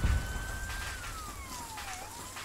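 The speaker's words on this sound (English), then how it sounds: "Oh, I can hear the ambulance coming to help." An ambulance siren in the Arma III military game wails with a long, slowly falling tone, steady and moderately loud over rain-like background noise, with no talking.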